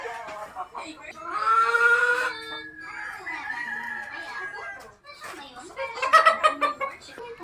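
Golden Kelso gamefowl chickens in a small backyard poultry yard, nearby birds calling in loud bursts and crowing-like cries, with someone talking in between.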